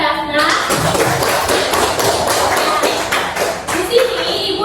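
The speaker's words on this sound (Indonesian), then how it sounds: "Beri aplaus dulu" A classroom of students claps for a classmate, a burst of quick overlapping handclaps that fills several seconds and tapers off, following a teacher's voice.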